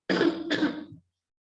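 A person on an online class videoconference coughs and clears their throat in two rough bursts close to the microphone, then stops, with no talking.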